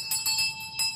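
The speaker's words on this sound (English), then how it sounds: "The bell of the room you was working in, sir." An electric room bell rings in a radio drama, sounding in rapid bursts of bright metallic clanging that stop and restart, fairly close.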